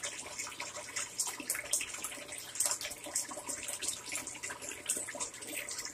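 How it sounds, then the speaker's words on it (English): Water draining fast through the pump of a Della 30 lb portable washing machine, a steady rushing, gurgling flow heard close up with almost no talk. "You do have a pump on your 30-pound portable water machine. You do have a pump on it. As you see, the water's going down real quick."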